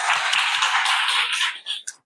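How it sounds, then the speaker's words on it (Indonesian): An audience in a polytechnic lecture hall gives a brief burst of dense applause that fades into a few last scattered claps. "Tepuk tangan untuk kalian semua."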